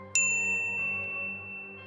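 A single bright notification bell dings once near the start, then rings out and fades slowly over a quiet sustained tone.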